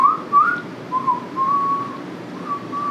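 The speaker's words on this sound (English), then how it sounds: "Can you whistle?" A person whistles a short, wavering run of clear notes, close and alone, with pauses between the faltering phrases.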